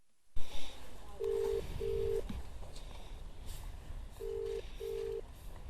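A phone call's ringback tone plays as two pairs of short, steady beeps over a rumbling background on a bike taxi ride.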